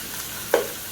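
Spam sizzles in a frying pan for fried rice, a steady close hiss with a short clatter and crackle as pieces hit the hot oil.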